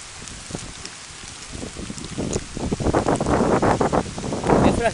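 Rain falling in Guajará-Mirim, Rondônia, a soft steady patter on leaves and ground that grows denser and louder toward the end, with an occasional faint voice nearby.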